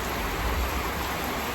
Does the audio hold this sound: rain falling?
yes